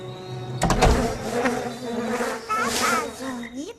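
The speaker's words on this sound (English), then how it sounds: "You'll have to get rid of a swarm of giant wasps." A swarm of giant wasps buzzes in the Lemony Snicket's A Series of Unfortunate Events video game, a steady, loud insect drone with shifting pitch that swells and fades over a few seconds.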